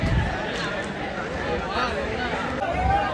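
A dense crowd of devotees and volunteers mills about at a Ganesh idol arrival procession in Dharavi, a steady outdoor babble of many voices and movement without pause.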